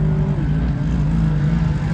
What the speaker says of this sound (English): Oh, we got a couple cars doing some rips.